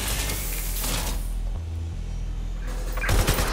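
Gunfire in the game Watch Dogs Legion: rapid bursts of shots crackle loudly at the start and end, with a quieter rumbling lull in between.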